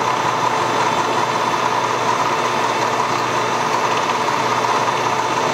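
A machine drills an aluminum Shovelhead cylinder head for a second spark plug, giving a steady, loud, unbroken mechanical drone with no talk.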